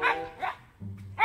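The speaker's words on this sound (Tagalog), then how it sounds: "Ang ingay ng aking aso" A dog barks three times in quick succession, close and fairly loud, with a short low growl between barks.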